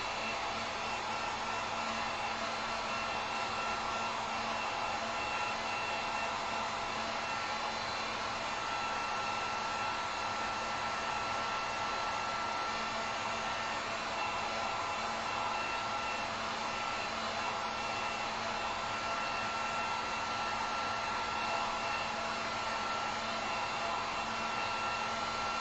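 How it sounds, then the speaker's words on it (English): A heat gun blows steadily over a wooden sign painted with acrylic, giving a constant loud whooshing whine with a fixed hum that holds unchanged the whole time, with no talking. "Let me throw the heat gun on this just real quick."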